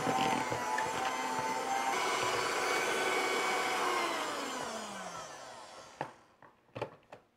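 A kitchen mixing machine runs steadily with a loud, dense whir while biscotti dough with almonds and dried fruit is mixed, then winds down and stops near the end, leaving a few short knocks.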